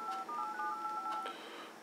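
A Samsung Galaxy smartphone dialer app sounds keypad touch tones: a quick string of short, clear electronic dialing beeps at modest volume, with no voice.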